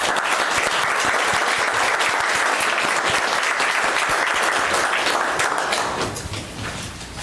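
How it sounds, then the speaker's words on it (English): Sustained applause from an audience in a city council meeting chamber, dense and steady clapping filling about six seconds before tapering off at the end. "Let's give them a round of applause."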